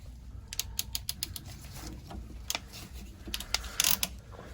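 A ratcheting crimp tool closing a 1-inch PEX ring during a whole-house water filter install, heard as a quick series of sharp metallic clicks and snaps in two bursts over a quiet room background.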